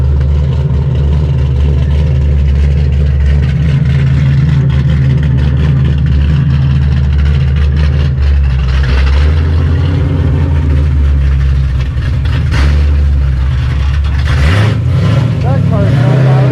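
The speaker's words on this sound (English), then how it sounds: "That car's not loud at all." A classic car engine idles quietly at a Ford car show, a low steady rumble running throughout beneath close conversation.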